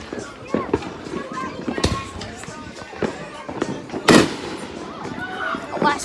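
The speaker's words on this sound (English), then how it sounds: "A last firework before I go." Fourth of July fireworks burst outdoors as several sharp cracks and bangs, one louder blast standing out near the end, amid ongoing crowd noise and nearby voices.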